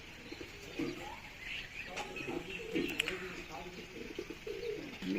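Low pigeon coos rumble at intervals amid faint chirps and a light wing flutter, with soft background noise.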